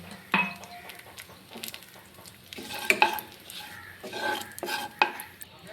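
Whole spices such as dry red chilli, bay leaf, cumin and garam masala frying in oil for dhokar dalna, a faint sizzle under irregular clinks and scrapes of a spoon against the pan.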